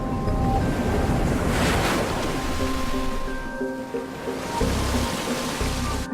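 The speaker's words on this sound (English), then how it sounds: "Coral reefs surround the island, breaking the waves into perfect pipelines that beckon surfers from around the world." Ocean surf breaks on coral reefs surrounding an island, a broad, steady roar of waves with gusty wind buffeting the microphone throughout.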